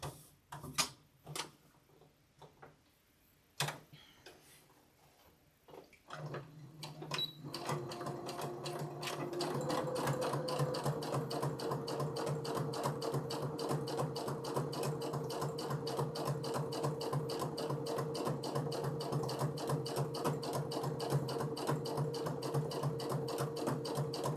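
Sewing machine stitching rows of a calico puzzle quilt block, running in a steady rapid chatter that starts after a few sparse clicks and holds loud and continuous to the end.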